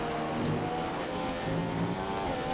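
A Formula 1 race car engine in an F1 video game, driving a lap on worn tyres: a continuous, steady engine drone with a sustained tonal hum and no break.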